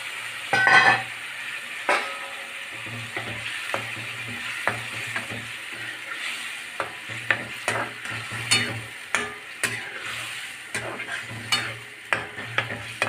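Oysters fry and get stirred in a pan of green garlic and ginger masala paste, giving a steady soft sizzle broken by repeated clinks and scrapes of a spoon against the pan, close and clear with no talking.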